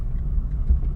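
A car engine gives a brief, close, low rumbling rev as the accelerator is pressed lightly during a driving lesson, with no talk.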